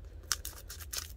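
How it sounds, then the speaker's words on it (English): Scissors snip open a Pokémon card pack from a 2021 Poké Ball tin: a few quiet, sharp cuts and crinkles close to the mic over a low background hum. "Let's use the scissors."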